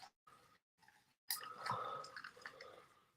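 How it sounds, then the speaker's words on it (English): A man takes a couple of swigs of water, making soft, close gulps and swallows followed by faint wet mouth noises, all quiet and with no talking. "Couple swigs of water."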